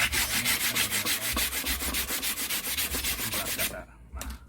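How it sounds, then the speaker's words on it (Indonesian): Coarse sandpaper rubs along a wooden pattern edge in quick, steady back-and-forth strokes, loud and close, before stopping briefly and giving one last short pass. "Kemudian kita gunakan amplas kasar untuk merapikannya"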